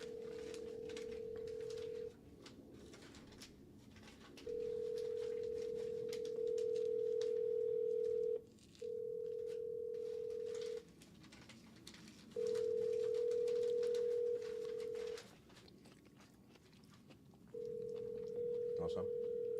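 A landline telephone dial tone sounds as a steady hum in repeated long bursts with short gaps between them. Faint room noise and soft voices sit underneath.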